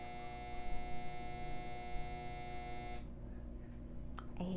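A household clothes dryer runs with a steady electrical hum and buzz that cuts off abruptly partway through, leaving faint room tone and a short clatter at the end.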